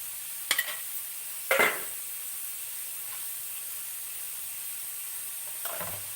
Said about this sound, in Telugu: వేసేస్తాము చూడండి ఆయిల్ వేసి